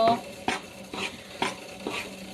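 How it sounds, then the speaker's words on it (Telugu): Ragi flour roasting in ghee in a pan, heard as a soft low sizzle under four or five rhythmic spatula scrapes and taps, close and moderately loud, with no speech. "ఈ పిండిని పచ్చివాసన పోయే వరకు వేయించుకోవాలి"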